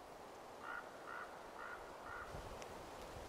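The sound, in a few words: raven calls in the forest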